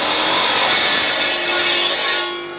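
A cutting machine slices through marble for a Roman-style mosaic, producing a loud, continuous abrasive grinding and whine close by that eases off near the end.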